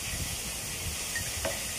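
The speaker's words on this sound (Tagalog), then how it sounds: "you could probably hear that sizzling sound in the background." Fish sizzles while frying in a pan in a home kitchen in the Philippines, a steady broad hiss of hot oil that runs continuously and moderately close, with small crackles.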